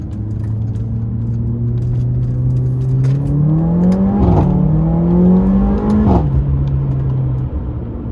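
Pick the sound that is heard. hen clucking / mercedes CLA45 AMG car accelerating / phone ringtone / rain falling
mercedes CLA45 AMG car accelerating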